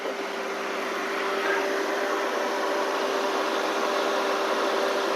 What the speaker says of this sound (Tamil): இந்த கூலிங் ஃபேன் சவுண்டு உங்களுக்கு கேட்கும்.